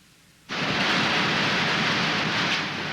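Hurricane rain and wind crash in abruptly after a quiet moment, becoming a dense, loud, steady roar of driving rain that holds to the end.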